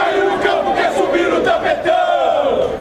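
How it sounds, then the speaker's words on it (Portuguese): Excited Fluminense and Portuguesa football supporters chant and cheer in a loud, continuous crowd roar, with voices rising in waves and no clear individual speech. "Torcida empolgada."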